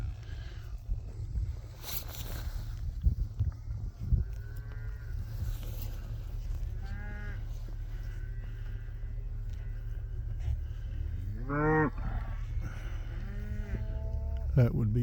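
Cattle, including bulls, moo on a snowy winter farm in Missouri, with several drawn-out rising calls at varied distances over a constant low rumble of machinery or wind.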